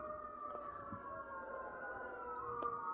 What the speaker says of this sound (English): because there's a lot of sirens that have been happening